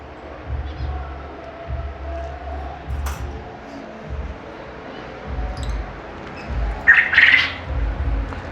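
A jumbo-size blue pastel breeder pair of pet birds gives a loud, brief squawking burst near the end, after faint scattered chirps over a low rumbling background.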